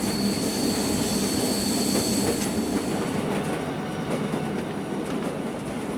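Tista Express intercity train from Dhaka to Joydebpur rounds a curve leaving Kamalapur station, with loud, close wheel squeal over a rolling clickety-clack rumble. The screech fades slightly toward the end.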